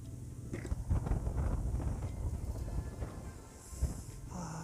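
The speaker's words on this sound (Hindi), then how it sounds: "बहुत ही ठंडी हवा चल रही है।" Cold mountain wind buffets the microphone on a motorcycle ride near Mud village in Spiti's Pin Valley, a steady low roaring rumble that dips briefly before gusting back.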